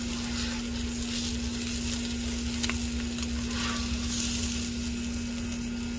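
Sausage sizzles and fries steadily on a Blackstone griddle, a constant close crackle with a low hum beneath and occasional stirring scrapes.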